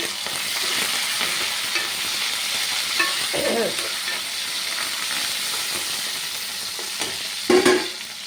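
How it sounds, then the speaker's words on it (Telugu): Onions and curry leaves fry in a pan with a steady, close sizzle and hiss all the way through, with occasional stirring scrapes and a louder clatter near the end. Talk is faint or absent. "ఇదండి ఉల్లిపాయలు వేగుతుంది, కరివేపాకు వేస్తామండి"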